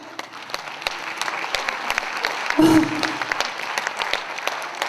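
A concert audience applauds steadily, a dense patter of clapping hands with a brief louder swell partway through.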